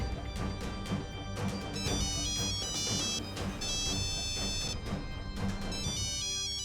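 A mobile phone ringtone plays as a loud, continuous, melodic ring that fills the whole stretch without a break.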